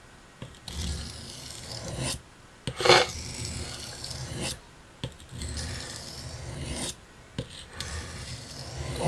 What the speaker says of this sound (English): We're going to work toward a burr on the other side of the stone.